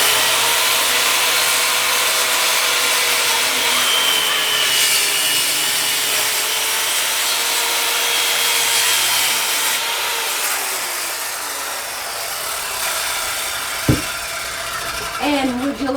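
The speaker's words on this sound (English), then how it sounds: "For some reason, the jigsaw is the easiest for me to follow a straight line on." A jigsaw cuts a board, rough-cut to serve as a mold for an epoxy resin tray. It makes a steady, loud buzzing rasp close by that runs without a break, with a brief knock near the end.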